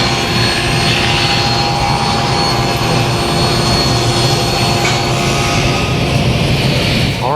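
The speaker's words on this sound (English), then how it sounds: "now it's time to cut the banding strips that's going to go all the way around this top" A table saw rips wooden banding strips in a continuous, loud, roaring whine that holds steady and unbroken from start to finish.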